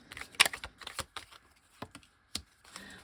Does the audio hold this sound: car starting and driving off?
no